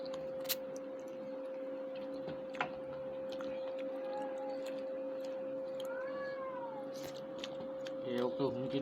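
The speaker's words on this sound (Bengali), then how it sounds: "দুটো বিড়ালের আওয়াজ শুনছো, মারামারি করছে দুজনে।" Two cats yowl and caterwaul at each other somewhere off at a distance, drawn-out rising and falling wails over a steady electrical hum, with a few clicks and a brief clatter near the end.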